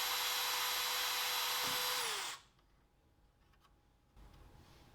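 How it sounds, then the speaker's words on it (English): A power drill bores holes into an old television set, whining loud and steady for about two seconds before stopping, followed by quiet faint ticking. "You really shouldn't be drilling directly into the wires."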